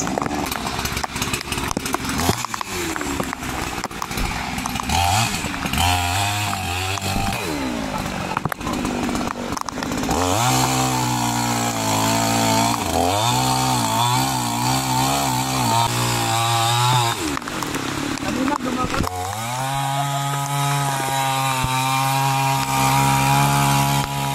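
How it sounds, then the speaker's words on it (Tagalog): A chainsaw cuts through a fallen tree blocking the road during a Signal No. 4 typhoon in Lucban, Quezon, near Mt. Banahaw. The engine revs up and down over and over, close and loud, bogging as the blade bites into wood, with rain steady underneath. "Meron na kaming daladalang chainsaw para lagariin namin yung punong nakaharang."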